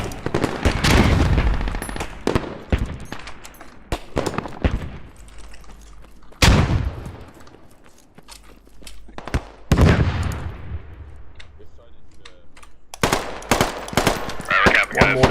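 Gunfire in the military shooter Squad: loud automatic bursts and sharp cracks with long echoing tails, some close and some distant, broken by quieter stretches and light talk.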